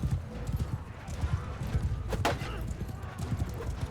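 Horses gallop across a battlefield in Mount & Blade II Bannerlord, a dense continuous clatter of hoofbeats with a faint whinny and battle noise, close and steady throughout.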